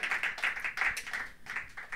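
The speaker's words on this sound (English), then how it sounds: "Another round of applause for Jorge and I." Small audience clapping at a talk in a Central American culture and justice series, a light, uneven patter of hands that stays fairly faint and close, dipping briefly midway before picking up again.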